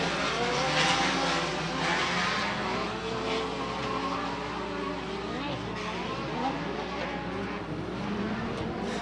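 Sportsman class race cars roar around a dirt track at Bark River, Michigan, engines droning and rising and falling as the pack passes, a continuous loud field of motor noise under a race announcer's commentary.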